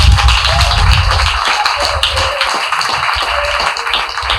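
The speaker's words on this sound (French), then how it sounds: "Si vous voulez applaudir, il faut applaudir ensemble." An audience at a comedy club claps together in a dense, continuous wash of applause with some rhythmic taps, loud and close throughout.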